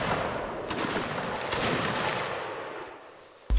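Musket volleys roar in a Napoleonic line battle video game, a dense, continuous crackle of massed gunfire that thins slightly toward the end before a sharp final burst.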